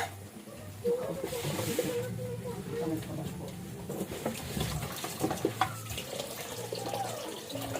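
Water runs from a tap with a soft, steady splash in a Filipino home setting. People talk quietly over the flowing water, and there are occasional clinks and shifts in the stream.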